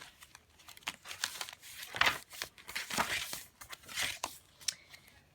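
Coffee-dyed paper being handled for a junk journal, giving a run of close, papery crinkles and rustles in irregular bursts with no talking.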